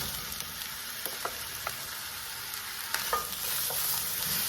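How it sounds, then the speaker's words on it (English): Onions sizzle steadily in melted butter over medium-low heat for French onion soup, a close, even hiss broken by a few soft stirring clicks and a brief louder burst near the end. "So now you're gonna add your onions in here."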